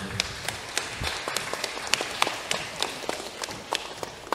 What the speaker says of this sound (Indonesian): Tepuk tangan untuk Grido Tanoyo